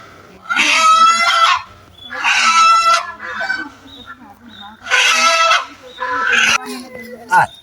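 A rooster squawking loudly in repeated panicked bursts while being chased and caught, four or five harsh cries separated by short pauses, close by.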